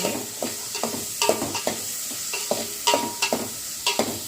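Dried pieces frying in a pan for a bottle gourd curry, with soft sizzling under repeated scraping and clattering stirs at an uneven rhythm, close and moderately quiet, no talk.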